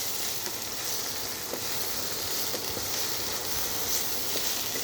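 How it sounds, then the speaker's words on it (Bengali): Cut potatoes and raw banana frying in oil in a pan, a continuous loud, close sizzle with faint crackles and no talking. "আলু এবং কাঁচকলা কেটে নিয়েছি, একটু ভাজা ভাজা করে নিচ্ছি।"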